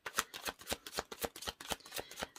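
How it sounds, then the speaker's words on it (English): Tarot cards are shuffled in a quick, steady run of crisp riffling bursts, close and clear with no talking. "So I'm just going to give the cards a good shuffle."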